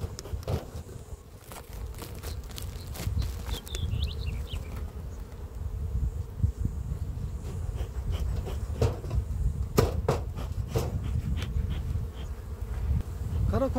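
Honeybees swarm and hum at an opened beehive during hive work, a continuous dense buzzing throughout with close individual bees whining past, plus scattered clicks and knocks of handling.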